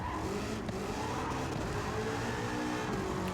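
A modified Nissan 300ZX with a swapped engine slides sideways in Gran Turismo 7, its engine droning loud and steady under a continuous tire squeal, with no talk.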